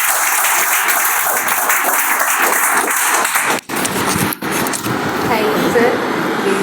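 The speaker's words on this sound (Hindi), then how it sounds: "सब लोग ताली बजा कर इनका स्वागत।" Audience applause at a teacher recruitment workshop in India, welcoming a teacher, dense and steady clapping close by for several seconds with brief dips.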